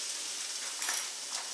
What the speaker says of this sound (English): All right, we got a little sizzle going.